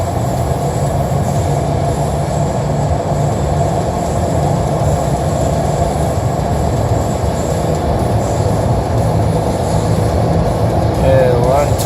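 A 2017 Toyota Tacoma TRD Off-Road fitted with an AFE dry air filter cruises at about 100 km/h on half throttle, a steady loud engine and road drone that holds evenly throughout.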